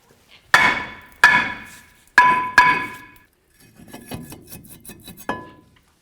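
A hammer strikes a brake rotor on a Ford F-250 to knock it loose, with sharp metallic clanks ringing out in uneven pairs, then a flurry of lighter taps and one final ringing hit.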